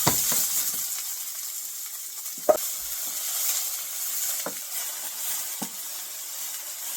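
Hot oil sizzling in a pan while making a budget cheesesteak with peppers and bread, a steady faint hiss with a few soft clinks and utensil taps, no talking.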